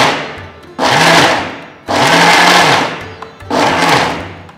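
A mixer grinder pulses coarse ridge gourd chutney in three loud bursts of whirring, with short quiet gaps between them and a motor pitch that rises at the start of each burst.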